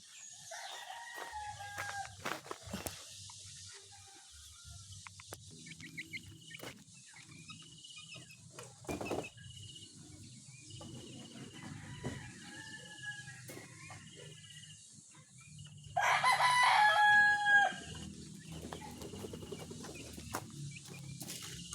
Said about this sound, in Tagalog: Pinakawalan natin yung ating mga sisiw para makagala naman.